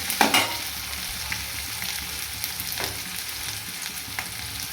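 Onions and tomatoes sautéing in a pan with a little rock salt for a ridge gourd gravy, a soft continuous sizzle with a sharp clatter at the start and occasional light stirring scrapes.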